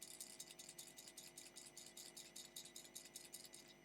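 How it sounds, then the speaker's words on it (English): A small $10 fishing lure shaken close up, rattling in a steady rapid rhythm of bright clicking bursts, with no talking. "hopefully you can hear the sound"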